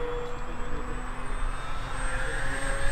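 A Durafly Efxtra 950mm electric RC plane makes a high-speed pass, its motor and propeller whine holding steady and loud for about three seconds with no talk over it.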